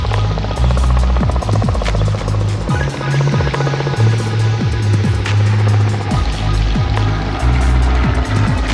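A helicopter roars close overhead, its rotor thumping in a rapid pulsing rhythm, loud and steady for the whole stretch.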